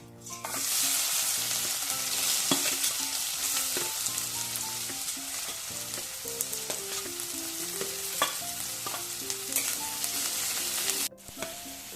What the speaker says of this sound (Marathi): तर कांदा टाकूया त्याच्यात